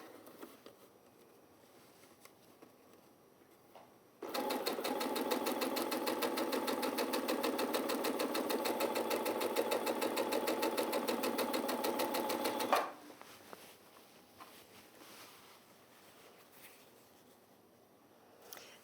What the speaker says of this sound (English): we're stitching together 2 sets of rectangles to make a square